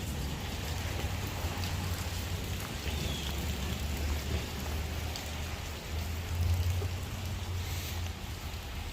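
Rain falls steadily on parked cars on a street in Newark, New Jersey, a dense, even patter of drops on metal and pavement with a low background rumble and no talk.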